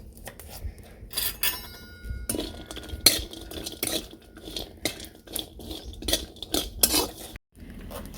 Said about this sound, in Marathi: त्याच वेलचीमध्ये आपण एक वाटी खोबरं घेतलेलं आहे ते भाजून घेणार आहोत